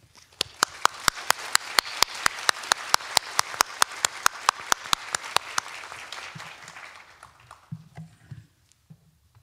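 A round of applause from a lecture audience in Tokyo, steady and full at first, thinning out into a few scattered claps before fading to quiet.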